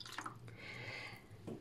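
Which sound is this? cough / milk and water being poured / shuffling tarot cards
milk and water being poured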